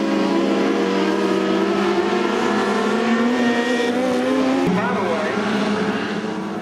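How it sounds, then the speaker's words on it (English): Wing 600 sprint cars roar through warm-up laps at Trail-way Speedway during a vintage race meet. The engine drone is loud and steady and overlaps from several cars, and the pitch drops sharply just before the end. "Track conditions are really good now as the Wing 600 sprints finish their warm-ups."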